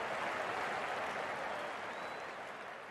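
A crowd at a Pakistan vs Bangladesh Test cricket match applauds and cheers as the openers walk out, a steady broad wash of clapping that fades slightly toward the end.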